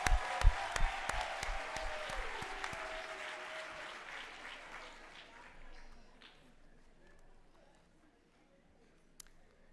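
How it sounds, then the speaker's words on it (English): Audience at a University of South Africa spring graduation ceremony applauding the seated academics, a few loud sharp claps at first, then fading into softer scattered clapping and a quiet hall. "give a round of applause to our academics who are seated here"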